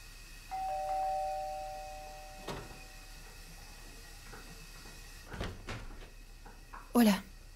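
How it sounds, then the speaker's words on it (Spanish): A doorbell rings at a flat's front door in a Spanish-language film: a steady electronic tone early on, followed by a few scattered knocks and clatters and a louder bump near the end. "Alguien está llamando a la puerta."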